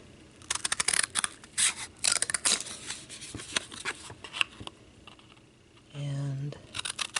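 Scissors cut out traced felt for a no-sew cupcake ornament, with close, scratchy snips and rustles in uneven bursts, followed by a brief mechanical buzz near the end.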